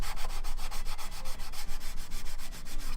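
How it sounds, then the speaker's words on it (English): Wet and dry sandpaper rubbing over a Nerf MA37 blaster part: steady, close, rhythmic back-and-forth scraping strokes repeating about every quarter second, with no talk. "let's fill this down a little bit more, and then we'll go at it with the sandpaper"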